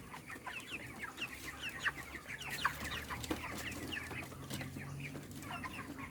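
Broiler chickens in an open raised coop cluck and murmur continuously, many birds overlapping at moderate distance, with a few sharper calls standing out over a low background hum.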